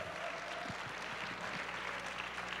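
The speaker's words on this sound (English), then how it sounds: "Clap for Doug." A concert audience claps in a continuous, even wash of applause, heard at a distance and fairly quiet, with a faint low hum underneath.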